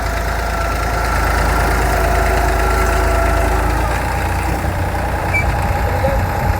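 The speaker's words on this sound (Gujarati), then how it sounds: "અને આ રીતનું ટ્રેક્ટર હાલ્યું જાય." A tractor's engine drones steadily at close range with a low rumble and faint knocking texture while it sows Patliya coriander in a field, continuous throughout without pause or talk.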